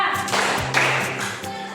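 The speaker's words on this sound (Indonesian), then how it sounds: "Tepuk tangan untuk kita semua" A group claps hands in a rhythmic counted pattern, several sharp claps landing in a brisk sequence close by, with faint voices in the background.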